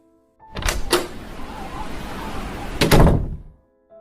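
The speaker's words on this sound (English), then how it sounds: "Everest could hear the old wooden door open into the blizzard, then shut quickly." An old wooden front door opens onto a blizzard and shuts quickly: a heavy thump, then a rush of wind-like noise, then a second louder thud as it closes.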